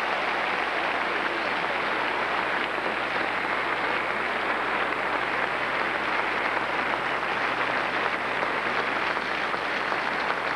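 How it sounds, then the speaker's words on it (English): Sustained applause from the crowd for two tennis players at the 1997 US Open women's final ceremony, a dense, even wash of clapping lasting about ten seconds with no talk over it. "how about a nice round of applause for two wonderful players?"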